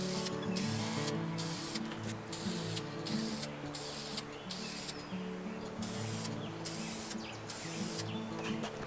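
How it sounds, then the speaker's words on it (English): Clear satin polyurethane sprayed from an aerosol can onto a hand-carved wooden bird: a close, steady hissing spray broken by short pauses between passes, with faint birdsong in the background. "I'm going to be using a clear satin polyurethane spray"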